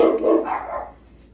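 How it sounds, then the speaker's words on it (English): Dogs bark in a home kitchen, one loud, fairly close woof-like burst that trails off into quiet. "Sorry family and friends about the dogs barking."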